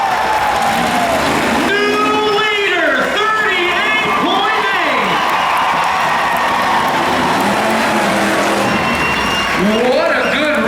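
At a county fair, race vehicle engines rev and whine hard through a mud pit, the pitch rising and falling in repeated throttle bursts, loud and continuous over a cheering, applauding crowd, with an announcer talking over it.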